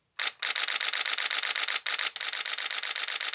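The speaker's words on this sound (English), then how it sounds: "I use this camera today because of its machine gun shutter." A Nikon Z9 camera shutter fires in a rapid machine-gun burst, dozens of crisp mechanical clicks in steady rhythm with a couple of brief pauses, close and loud.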